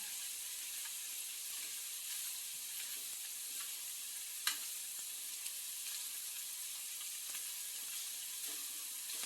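A salmon omelette fries in a pan with a steady, bright sizzle and crackle throughout, marked by soft scrapes and one sharper tap as pieces are flipped one by one.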